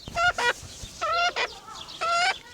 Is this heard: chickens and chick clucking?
yes